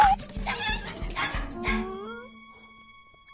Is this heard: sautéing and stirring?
no